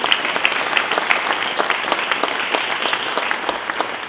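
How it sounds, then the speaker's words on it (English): A hall audience at a hockey induction ceremony claps in a sustained round of applause, dense and even with individual claps standing out close by. "I think we all give a big round of applause to Jerry and what he's meant to our program."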